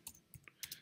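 Quick keyboard typing for a Google search gives a short burst of soft, close clicks, about six keystrokes tapped in an uneven rhythm, faint and without any speech.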